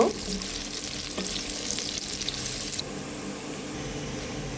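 Onions fry in duck fat and a little oil, browning with a dense, steady hiss and crackle close by, plus a brief stir near the start.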